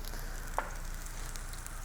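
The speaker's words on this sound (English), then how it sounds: "Gonna start off with my pearl oyster mushrooms. And I've got the sizzle I'm looking for." Pearl oyster mushrooms sizzle in olive oil in a wok, giving a steady close crackle with a single brief pop partway through.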